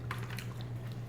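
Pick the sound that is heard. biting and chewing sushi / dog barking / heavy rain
biting and chewing sushi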